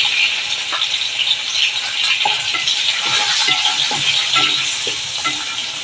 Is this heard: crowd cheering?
no